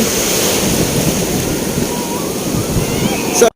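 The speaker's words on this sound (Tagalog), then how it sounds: "Dala ng paghampas ng mga malalaking alon." Large ocean waves crash and churn steadily on a sandy beach at Nasugbu, Batangas, a loud continuous roar of surf mixed with wind buffeting the microphone, ending abruptly.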